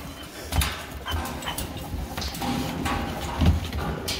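Dogs shuffle and whimper in straw-lined kennels with heat lamps, with a few sharp knocks and clatters over steady background noise, in snowy weather.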